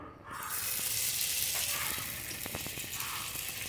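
Prawns sizzling in a pan coated with a ladle of oil for a stovetop prawn tandoori, a steady loud frying hiss with scattered crackles and pops throughout.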